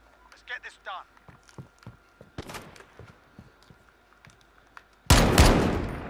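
Gunfire from a Call of Duty: Modern Warfare 2v2 Alpha match, including an M14 rifle: scattered single shots and sharp reports build to a loud sustained burst near the end, over faint background movement.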